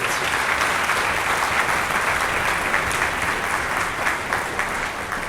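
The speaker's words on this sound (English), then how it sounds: "Can we have a round of applause for our brand new students?" Audience at a school winter concert applauding new music students, a full, steady round of clapping that holds at an even level from start to finish with no talk over it.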